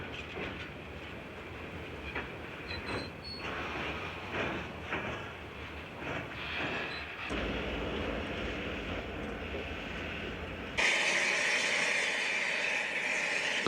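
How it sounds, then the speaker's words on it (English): A long freight train rolls past in the Australian bush, a steady rumbling roar with clattering wagons that shifts to a brighter, louder hiss and screech near the end. "The train passes and the men are soon back at work"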